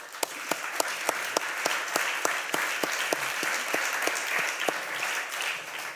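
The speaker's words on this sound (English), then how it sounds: "Please join me in applause for our panel." An audience at a town hall event applauds a panel, a steady patter of many hands with a few sharp, close claps standing out over the room.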